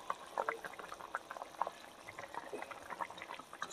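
Fish curry with potato and eggplant bubbling in a pan, a soft steady boil of popping bubbles and gentle liquid gurgles, fairly quiet and close.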